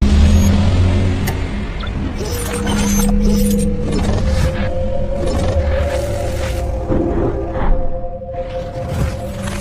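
A friend's car drives along the road toward a garage, a steady engine and road rumble filling the cabin with shifting mechanical tones and occasional clunks and bumps, no voices.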